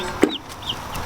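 A single close cluck from a small bantam chicken, followed by faint chirps and quiet background rustling.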